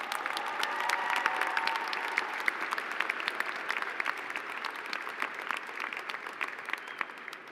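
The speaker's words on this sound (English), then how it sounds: "Let's give them all a round of applause." A commencement crowd gives sustained applause for the honorary degree recipients, a dense, even clatter of many hands that stays steady and gradually thins out toward the end.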